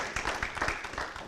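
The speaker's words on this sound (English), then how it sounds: "one more round of applause" Attendees at a Hamilton County Department of Education board meeting applauding an honoree, a short patch of moderate clapping from a small room of people, fading after about a second.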